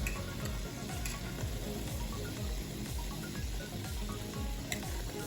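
Hush puppies frying in hot oil, a steady, close crackling sizzle with dense bubbling that continues evenly throughout, no talking.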